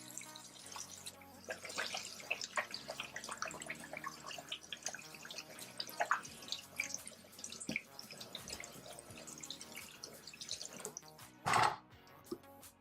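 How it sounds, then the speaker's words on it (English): A kitchen tap runs as hands are washed after handling raw pork, with soft splashing and dripping, then a brief louder gush near the end. No talk. "Wash my hands."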